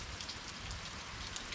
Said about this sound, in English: Found shelter just before the rain came.